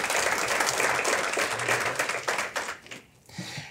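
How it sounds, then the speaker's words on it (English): Applause from a university audience at a strategic plan rollout event at SIU Edwardsville, a dense wash of clapping that holds steady and then thins out near the end. "So a big round of applause for that record day of giving last week here at SIUE"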